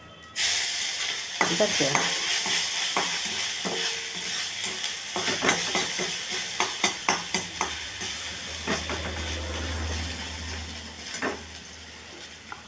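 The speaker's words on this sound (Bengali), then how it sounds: "জিরে ফোড়ন, দারচিনি জিরে ফোড়ন" Cumin seeds and cinnamon tempering in hot oil give a steady sizzling hiss, with clicks and scrapes from stirring throughout and a low rumble late on, while someone briefly speaks.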